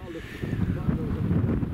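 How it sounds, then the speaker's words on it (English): Steady wind buffets the microphone at a wild camp among tents in the Cheviot hills, a continuous low rumble with gusty fluctuations and no clear pauses. "it's windy as out"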